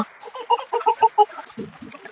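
Kadaknath chickens at feeding time on a poultry farm give a quick series of close, rhythmic clucks, followed by softer lower calls near the end.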